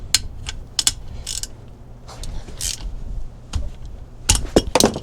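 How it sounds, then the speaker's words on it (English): Ratchet fitted with an H14 Allen socket clicking in short bursts while loosening a differential fill plug on a BMW X5 E70 rear axle, sharp close metallic clicks with pauses between strokes. "Get your ratchet ready."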